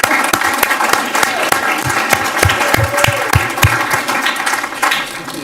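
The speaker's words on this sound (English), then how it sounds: "Would you please give yourselves a nice round of applause?" Loud, close audience applause at a school superintendent's citation ceremony, a full continuous roar of many hands with distinct individual claps popping out, holding steady then easing slightly at the end.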